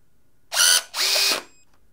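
An NB08PT-18 cordless rivet nut tool setting a fastener gives two close, loud motor whirs, a short spin and then a longer pull that rises slightly in pitch as it tightens, followed by silence.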